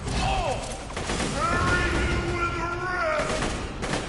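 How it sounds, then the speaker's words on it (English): Borderlands 2 bouncing grenade spraying bullets: continuous crackling gunfire with whistling, sweeping tones layered over a steady game-action din, loud throughout. "It's like a bouncing grenade that shoots loads of bullets."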